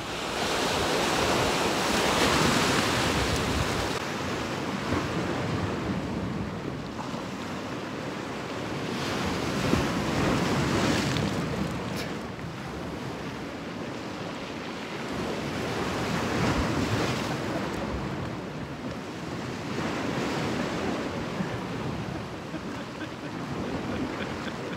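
Sea waves and wind at a Rhodes seaside spot, heard from a balcony over palm trees: a continuous roar of surf swelling and easing in slow surges, with gusty wind buffeting the microphone throughout.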